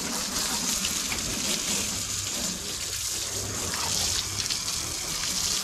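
Water gushes and splashes steadily while a car is washed, a continuous close hiss of pouring and spraying with no talk over it.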